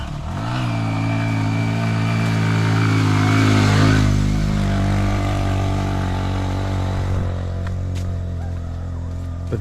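A motorbike carrying visitors near Risang waterfall in Khagrachari passes close by, its engine rising to a loud rev and then fading out over several seconds.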